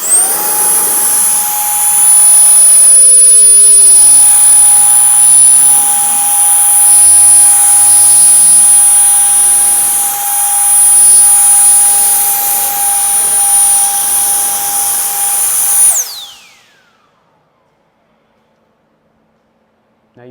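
A cordless turbine blower drying the flat hood of a car whines loudly and steadily at close range for about sixteen seconds, then cuts off and spins down into silence.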